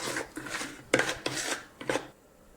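Chicken pakora batter stirred in a bowl: repeated scraping and rasping strokes of a utensil against the bowl, close and moderately loud, in uneven bursts with brief pauses, no talk.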